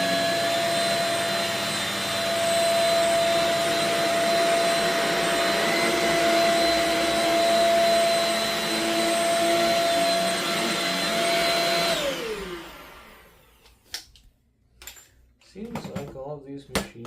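A Shark Rocket bagless vacuum cleaner runs with a loud, steady whine and a strong tonal motor drone, then powers down and winds away to quiet, followed by a few brief handling knocks and clatter.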